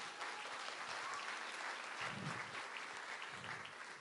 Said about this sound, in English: The applause was so tepid.